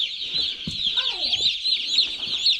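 Broiler chickens cluck in a pen on a large broiler flock's farm, with steady, busy chatter and soft calls from many birds close by, and a few louder clucks standing out.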